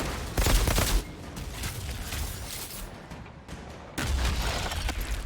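Outriders game gunfire, dense overlapping bursts of shots in two loud clusters, one near the start and one toward the end, with a rumbling, quieter stretch of combat between them and no voices.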